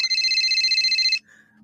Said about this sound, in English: Oh, the phone's ringing, Tom.